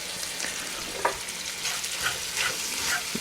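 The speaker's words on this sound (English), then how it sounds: "You can hear it sizzle." Cooking wine hitting a hot pan, a soft steady sizzle and frying hiss with small crackling pops, close and fairly quiet, with no talk over it.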